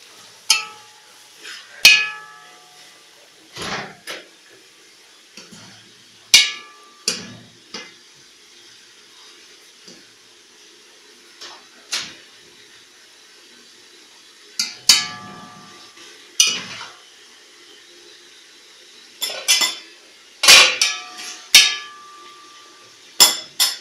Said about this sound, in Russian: Перемешиваем все это.